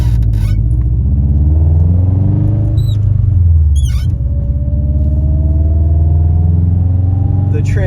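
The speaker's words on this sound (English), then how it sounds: "the transmission whines so loud now" A car transmission whines steadily while the car drives, a rising tonal whine over constant low road and engine rumble, with a few short clicks along the way.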